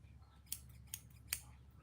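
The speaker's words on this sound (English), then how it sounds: "I love scissors ASMR." Scissors snipping through fabric while a Vipers in the Ivy dress shirt is being made in a sewing studio: three crisp, close snips spaced roughly evenly apart over a low room hum, with no talking.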